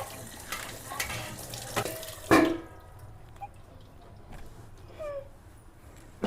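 Kitchen utensils are rinsed with water after being scrubbed with a Vim bar, giving running and splashing water, drips and a sharp metallic clatter, loud at first and then softer.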